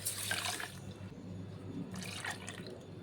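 Milk is poured into a mixer jar holding mango and sugar, a soft liquid splash in two faint bursts, one at the start and one near the end, close and quiet with no talk.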